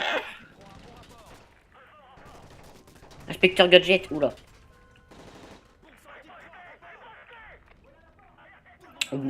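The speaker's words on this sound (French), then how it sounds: "Bon sang, des coups de feu" Rapid automatic gunfire rattles in the shooter game Modern Warfare 3 during a plane hijacking scene, a dense burst of shots lasting about a second, mixed with in-game dialogue and a player talking over the action.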